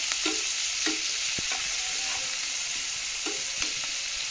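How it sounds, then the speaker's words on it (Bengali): Chopped onions fry in a pan, a constant close hiss of oil broken by a few soft knocks and scrapes as a spatula stirs them, with no one talking. "পেঁয়াজ কুচিগুলো এগুলো ভালো করে ভেজে নেব, হালকা ভেজটা কালার করে নেব লাল করে।"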